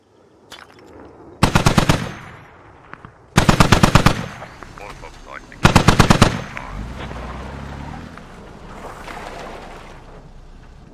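Heavy machine gun fire in the Squad video game comes as three loud rapid bursts of about a dozen shots each, followed by distant rumbling and softer combat noise.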